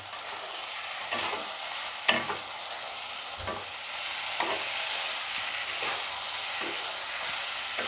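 Spices sautéing in a pan for a vegetable fish fry, giving a continuous, fairly loud sizzle broken by several scraping stirs of a spoon, with a sharp clack partway through.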